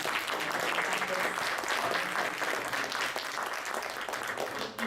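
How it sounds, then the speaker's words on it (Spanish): A conference audience gives the participants steady, moderately loud applause after an academic panel session, with even clapping that continues evenly and fades slightly at the end. "Démosle un aplauso a los participantes"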